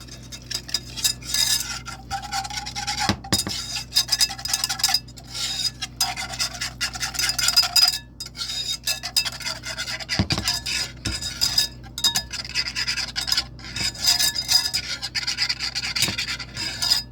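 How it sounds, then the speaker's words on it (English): Self-rising flour mixture being whisked in a bowl for meatloaf gravy, continuous close scraping and rubbing with occasional metallic clinks against the bowl. "And then we're just going to whisk that together."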